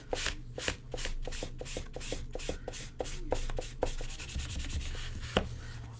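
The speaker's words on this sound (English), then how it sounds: "Sharpen Gen 2 Koenig Arius." A Koenig Arius Gen 2 knife blade scrapes steadily across a sharpening stone in quick, evenly repeated strokes, close and distinct with no voices.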